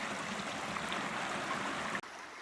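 San Ysidro Creek flows at the Pacific Crest Trail crossing, a steady soft babble of running water heard close and alone, cut off briefly near the end.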